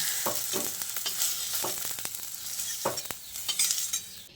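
Steady oily sizzle of okra frying in a pan, with scattered metallic scrapes and clinks as pieces are stirred and lifted out.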